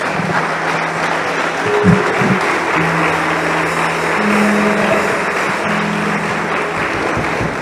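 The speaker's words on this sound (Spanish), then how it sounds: "Dale un aplauso a Jesús." A sustained, even roar of audience clapping at a church gathering in praise of Jesus, steady for several seconds with a low droning hum running beneath it.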